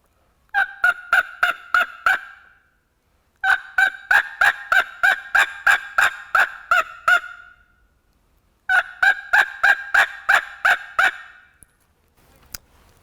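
A hunter blows a mouth call to imitate a turkey hen's basic yelp: three clear series of sharp, evenly spaced notes, about five to eleven per run, separated by short silences.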